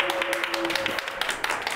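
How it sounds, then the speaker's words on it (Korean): A brief burst of audience applause welcomes a speaker at a forum in Daejeon, with dense overlapping claps and a faint sustained tone underneath. "큰 박수로 모시겠습니다"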